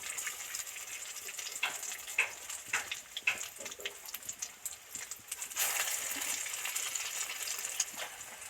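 Egg-battered potato pakoras fry in hot oil with a steady, close hiss broken by scattered crackles and pops, getting slightly louder and denser toward the end, with no talking.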